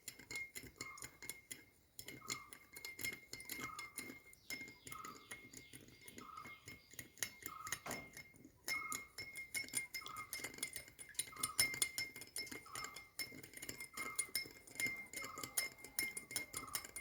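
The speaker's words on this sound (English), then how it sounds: "Adding 2 tablespoons of sugar to this one and stir it very well." A spoon stirs sugar into a glass of water, giving soft, regular clinks against the glass at a steady pace, faint and close, with no talk.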